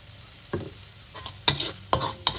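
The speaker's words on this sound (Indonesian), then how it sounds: "Ditumis sampai harum." Ground sambal spice paste, made without bird's eye chilies, is stir-fried in a pan before fish balls go in. There is a steady sizzle and several sharp scraping stirs of the spatula, with no talking.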